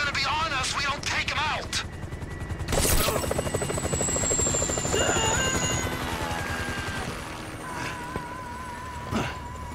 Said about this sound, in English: The chopper's gotta go, man!